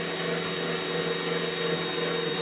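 A small abrasive wheel on a power tool cleaning a 1947 GMC truck door: a continuous high-pitched whirring grind, loud and steady throughout with no talk.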